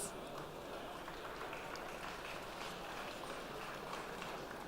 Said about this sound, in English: So big round of applause for Joe Roddy and everybody at Volvo Trucks.